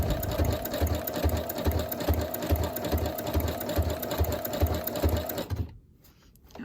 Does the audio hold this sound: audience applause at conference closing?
no